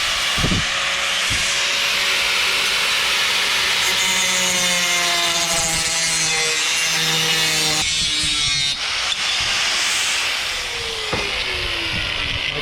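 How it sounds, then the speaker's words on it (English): An angle grinder with a small cutoff wheel slices through metal angle pieces for a kitchen range hood, whining loudly in long cuts that rise and fall in pitch, with brief pauses between passes. "Just got a little cutoff wheel on my grinder."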